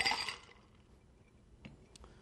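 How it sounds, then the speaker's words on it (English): A Ward Eight cocktail is strained over ice into a red wine glass, giving a brief close burst of liquid pouring and ice clinking at the start, fading to quiet, with a couple of faint later glass clinks. "And then we're going to strain it into our red wine glass with ice."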